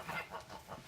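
Chickens cluck softly nearby in a brief burst of two or three low, rounded clucks, heard alone without talk.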